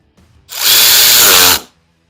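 A power tool runs in one steady, loud burst of about a second while tightening a shorty brake lever on an Aprilia Tuono 660 motorcycle, spinning up and then stopping abruptly.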